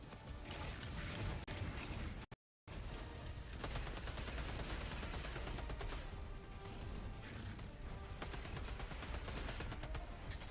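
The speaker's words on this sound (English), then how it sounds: "Keep forgetting that you can just shoot while you're running with the SMGs." Rapid submachine-gun fire in a shooter video game, fired while the player runs, with dense sustained bursts and a brief gap of silence partway through.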